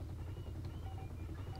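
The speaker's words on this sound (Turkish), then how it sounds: "Şimdi helikopter uçuyor." A helicopter flying in the video game GTA 5, a faint, steady low rotor rumble that holds without change.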